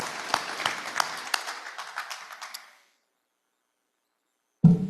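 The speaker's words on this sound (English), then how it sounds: "she deserves another round of applause for that" Audience applause at a Rotary Club meeting, a moderate round of clapping from a room of members that fades out after about three seconds, followed by silence and then a burst of room noise.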